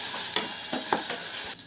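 Tempering for lemon rice sizzles in a pan with a bright, continuous hiss, broken by a few sharp scraping or tapping sounds as it is stirred and poured out.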